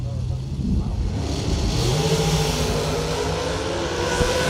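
Dragster engine at a drag strip during a Florida racing event, a loud sustained roar that rises in pitch as it revs, heard under the announcer's commentary.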